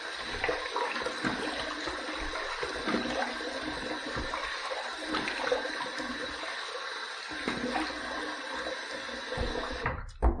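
Running water rinsing during a razor shave, a steady close rush of water from a tap that continues throughout and cuts off abruptly at the end.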